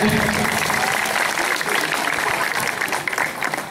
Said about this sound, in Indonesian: Tepuk tangan buat Pak Dokter.